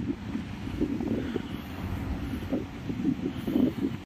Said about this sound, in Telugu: చాలా చల్లటి గాలి వస్తుంది బాగా